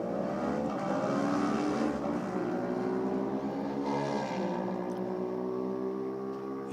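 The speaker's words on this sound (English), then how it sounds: "The Ducati Diable, 1198cc." Ducati Diable 1198cc motorcycle on a drag racing pass, a high revving engine whine climbing steadily through gears with rising harmonic sweeps, heard from a moderate distance and fading toward the end.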